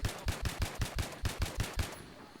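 An SKS rifle in the video game Battlefield 3 fires about a dozen evenly spaced semi-automatic shots in quick succession, sharp and close, then stops.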